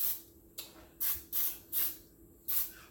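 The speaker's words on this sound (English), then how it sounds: "just spray it on there" Homemade pan release is sprayed onto a cake pan in five short hissing bursts, soft and close, each puff lasting a fraction of a second with brief pauses between them and no talking.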